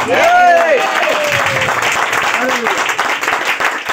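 Congregation applauding at a church service, a dense steady wash of clapping throughout, with a voice calling out over it near the start.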